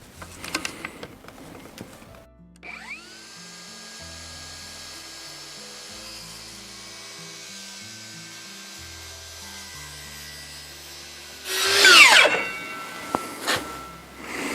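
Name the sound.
power saw cutting a wooden test piece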